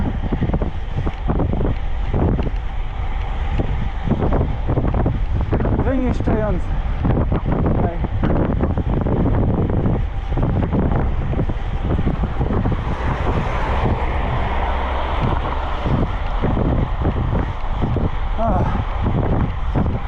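Steady, heavy wind buffeting a microphone while cycling into a strong autumn halny headwind, with broadband roar throughout and faint other noises mixed in.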